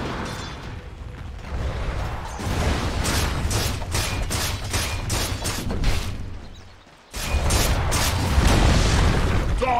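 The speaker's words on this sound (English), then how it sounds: "Dire's top tower has fallen!" A tower in a Dota-style video game comes under attack and falls amid dense battle effects: rapid crackling hits, booms and bursts, a brief lull, then a sharp renewed burst of impacts continuing loudly to the end.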